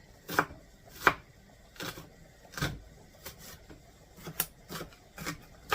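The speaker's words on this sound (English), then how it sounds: "Let's get that onion chopped up into nice little pieces." An onion is chopped into small pieces with a knife on a board, giving about a dozen distinct, close thuds at an irregular, unhurried pace, with no voices.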